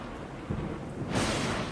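Thunder rolling through Yosemite Valley during a thunderstorm, a low, distant rumble that swells into a broader crack of noise near the end, heard alone.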